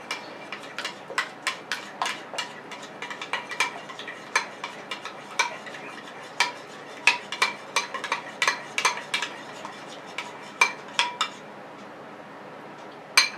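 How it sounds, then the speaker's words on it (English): Honey BBQ apple cider sauce being mixed in a bowl, a steady run of sharp, close clinks and taps as the utensil strikes the sides, quick and irregular, with no talk. "I'm going to mix that up."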